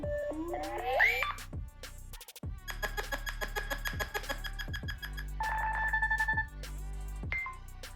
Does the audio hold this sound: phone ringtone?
yes